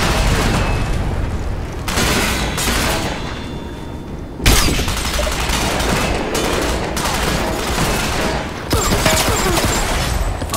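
Rapid bursts of gunfire in the online shooter Ghost Recon Online, including pistol shots, crack loudly and almost continuously across the whole stretch, with a few sharper louder reports standing out.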